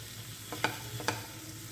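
Chopped medium-size tomatoes fry in a pan with a soft, steady sizzle, broken by two quick stirring scrapes close by.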